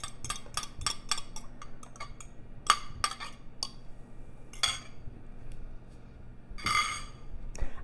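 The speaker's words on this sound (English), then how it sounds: "I'm going to slightly beat them before adding them to the butter and the" Two eggs are lightly beaten in a bowl for banana nut bread, with a utensil clinking against the bowl in quick irregular taps, close and fairly loud, over a quiet background hum.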